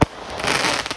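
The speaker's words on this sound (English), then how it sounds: "there are some bombs going on in the sky. Oh, there's. Oh, it's going off, Ray!" Fireworks bursting overhead on bonfire night, a loud initial bang followed by dense crackling and fizzing sparks that fill the rest of the moment.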